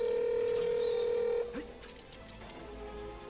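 A phone call being dialed in a Ratchet and Clank game: a steady electronic tone holds for over a second, then cuts off and gives way to a softer line hum with faint clicks.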